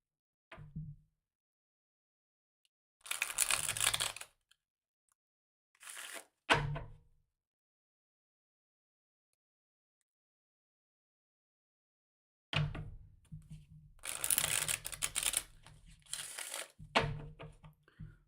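Oracle cards being shuffled by hand, brisk papery riffles and crisp bursts in separate clusters with silent gaps between them, close and clear, no talking.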